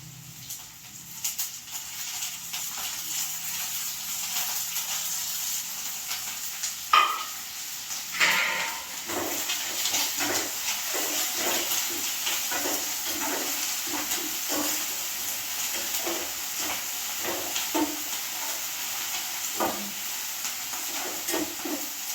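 Drumstick leaves (moringa) dropped into oil in a pan give a steady close sizzle and hiss, with scraping stir strokes recurring throughout and a few louder clatters in the middle.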